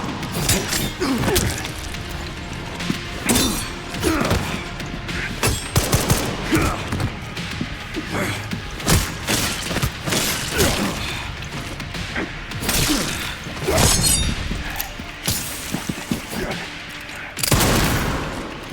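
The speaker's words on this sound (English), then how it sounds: "Of course he dodges a fucking hand cannon shot." Heavy hand cannon shots and combat in Resident Evil Requiem: repeated loud sharp blasts and impacts with whooshes and crashes, a chaotic rhythm of bursts throughout.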